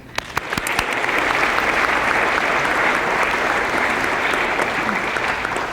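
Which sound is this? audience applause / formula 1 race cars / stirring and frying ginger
audience applause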